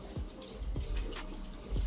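Tap water runs and splashes in a sink or shower as a child washes, with steady low flowing and a few soft drips and splashes, fairly close by.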